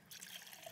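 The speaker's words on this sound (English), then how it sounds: "I'm going to put it in this glass right here." Orange juice poured into a glass gives a soft, brief trickling splash, faint and close, with no talking.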